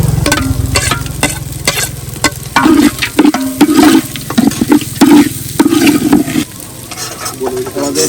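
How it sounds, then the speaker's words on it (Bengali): Rice for basanti pulao frying in a pan, with salt, a little sugar, cashews and raisins, stirred steadily: a close, loud sizzle broken by repeated scraping strokes of the spoon, with no talk. "আমাদের চাল ভাজা হয়ে গেছে"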